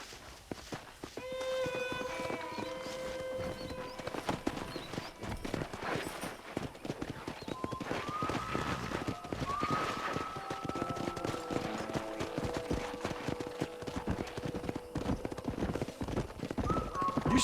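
Horse hooves clip-clopping on a ranch in the video game Red Dead Redemption, steady rhythmic footfalls under game music with melodic tones, a whinny or two possible, no clear speech.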